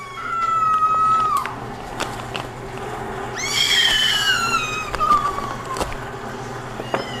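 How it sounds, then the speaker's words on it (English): High-pitched screams and shrieks from children ring out in the distance, a few rising and falling wails over a steady background hum. "If you hear the screaming in the background"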